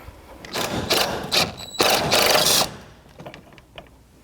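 Rapid metallic ratcheting of a socket wrench loosening the 10mm alternator mounting bolts on a 2006-2012 Toyota RAV4, in several close, loud bursts with short pauses between them, then quieter clicks and handling noises.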